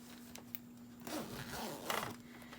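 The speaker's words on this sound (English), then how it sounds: "you're going to be able to just zip this closed" A zipper is pulled closed along a handmade boxy-bottomed fabric cosmetic bag, with a few quick close rasps after light handling sounds, quiet and up close.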